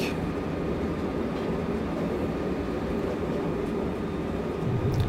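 Rumble of an EC express train passing through a station at 160 km/h in a train simulator game, heard from the cab as a steady, loud rolling roar that lasts throughout with no talking.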